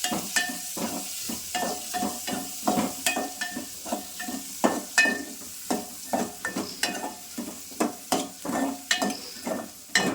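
Onions frying in oil crackle under a spatula that scrapes and stirs in a steady rhythm, producing repeated close scraping strokes over a constant bright sizzle.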